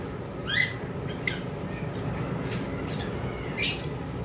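A pair of opaline lovebirds kept at a bird farm, giving a few short sharp squawks and chirps spaced apart over steady background noise.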